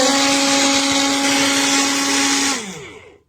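A small MIAOKE portable blender whirs loudly with a steady high-pitched motor whine, then spins down and fades as it switches off near the end.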